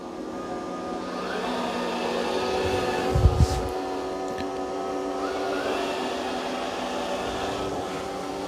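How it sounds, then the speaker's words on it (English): A Eureka J15 Pro Ultra robot vacuum and mop runs with a steady, even mechanical hum throughout, with a brief louder bump near the middle and no talking. "It turned the vacuum off and now it's mopping only."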